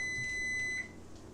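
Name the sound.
oven beeping to signal it is preheated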